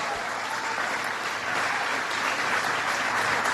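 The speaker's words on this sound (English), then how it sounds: "How about a big round of applause" A big round of applause from a large crowd of shipyard workers at a presidential speech aboard the Navy aircraft carrier USS Gerald R. Ford, steady and sustained throughout.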